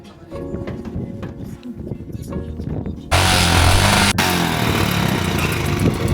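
A motorcycle engine at about 15,000 feet altitude near Gongkar La Lake in Arunachal, where thin air made it hard to fire, catches halfway through and runs loud and rough under scattered background voices.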